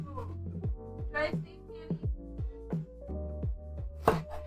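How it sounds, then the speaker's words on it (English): Kitchen knife chopping ingredients for Spam fried rice on a cutting board, a steady series of sharp close knocks with short pauses, under light background talk. "You can listen to the chopping sounds?"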